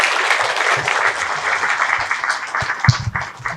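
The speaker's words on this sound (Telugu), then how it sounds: "మేడంని గట్టిగా చప్పట్లతో వేదిక మీదకి ఆహ్వానించుకుందాం" An audience at a meditation talk claps to welcome a woman from Kurnool onto the stage, a lively spread of many hands clapping that grows a little uneven and thins toward the end.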